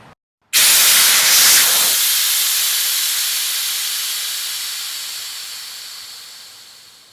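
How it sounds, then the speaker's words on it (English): A sharp, very loud hiss bursts from the valve of a FunWater Honor 10′8" inflatable stand-up paddle board as it is pushed in, the rush of escaping air fading slowly over several seconds, close by and alone. "When you push it in, it's gonna make a really loud noise for just a couple seconds, then the rest of the air is gonna let out."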